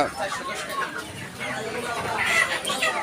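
Several chickens, including layer, Sonali and Pakistani breeds, cluck and squawk close by at a poultry market amid busy background chatter of people talking.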